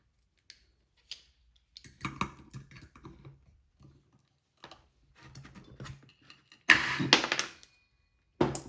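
Pliers cutting wire on a vise-grip job, with scattered close metallic clicks and handling rattles, then a louder burst of snipping and clatter near the end.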